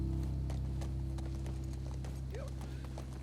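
Rhythmic hoofbeats of a galloping horse in The Last of Us Part II clop in a quick steady pattern under a low constant hum, with a short whinny-like call near the end.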